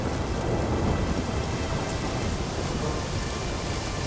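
Steady thunderstorm in The Witcher 3, with heavy rain pouring continuously on surfaces and low thunder rumbling beneath, a dense, loud wash of noise with no talking.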